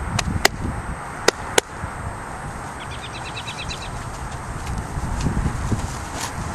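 Hooves of a five-year-old Friesian gelding stepping backward during ground work, a few soft clip-clop steps over outdoor ambience, with birdsong and a couple of sharp clicks.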